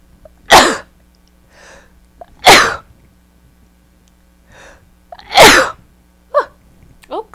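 A single person sneezes three times in a row, each sneeze sharp, close and loud, with quiet breathy pauses between them and a small voiced sound near the end.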